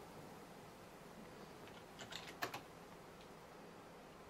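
Brief cluster of keystrokes on a computer keyboard, a quiet burst of a few quick taps near the middle, over a faint steady room hum with no talking.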